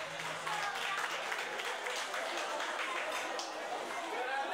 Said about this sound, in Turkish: Güzel bir alkış gelsin Vecdiye ve ailesine.